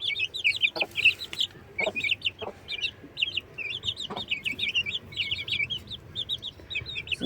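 Chickens in a garden yard cluck and chirp busily, with some chicks among them, in a near, continuous chatter broken by soft knocks and rustles.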